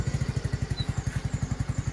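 Motorcycle engine just started with the electric starter, now running in a quick, even low thumping idle pulse, close and steady with no voices.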